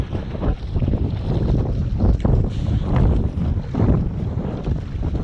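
Strong wind gusts rumble continuously over open water during a stand-up paddleboard race, with a loud, buffeting roar and faint splashing beneath and no talk.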